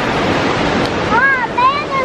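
A waterfall's rushing water gives a steady, loud broadband roar, mixed with wind buffeting the microphone, with a couple of short voice-like chirps near the end.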